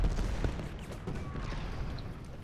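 Cannon fire from artillery guns in Ultimate General Gettysburg, a dense rumbling barrage of booms and crackling volleys rolling together at moderate volume, with a brief faint voice in the mix.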